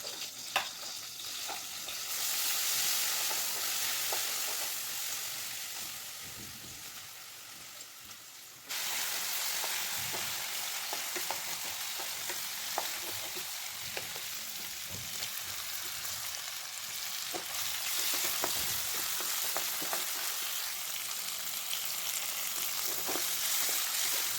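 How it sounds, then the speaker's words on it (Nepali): Vegetable curry with small tomatoes cooking in a pan, a continuous loud sizzle and hiss with frequent stirring scrapes, and a sudden rise in level partway through as the frying intensifies. "र त्यही सानो खालको टमाटर हालेर चाहिँ म यहाँ सब्जी पकाउन आँटेको छु"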